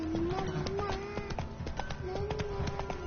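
In a video game, the horse Roach gallops with a rapid, rhythmic clip-clop of hooves, close and steady, while someone speaks over it.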